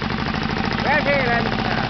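An Olympia T 80 Dynastart engine runs steadily with a low, even, pulsing mechanical drone as throttle is applied, close and continuous, with a voice talking over it.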